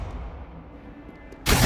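A spell blast from the video game Hogwarts Legacy: a quiet, low rumbling stretch, then one sudden loud burst that bursts in at the end and keeps going.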